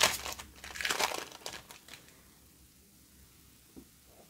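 Crinkling foil wrapper of a Magic: The Gathering Masters 25 booster pack being torn open, a burst of close crackling in the first two seconds that fades to near silence.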